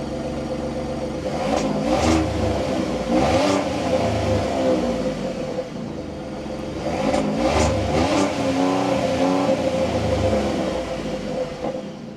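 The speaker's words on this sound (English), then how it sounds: "inside the 2024 F-150 Tremor, keeping my foot on the brake, we can go ahead and fire it up" A 2024 Ford F-150 Tremor pickup with an EcoBoost engine cranks and starts from the cab, then revs up and settles twice in loud, close surges, with no talking over it.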